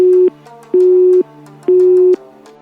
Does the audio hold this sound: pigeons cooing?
no